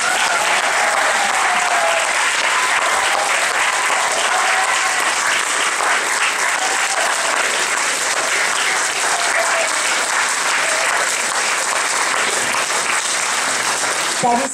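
Long, loud, sustained applause from a large audience for the children who performed in a musical, dense clapping that stays even from start to end.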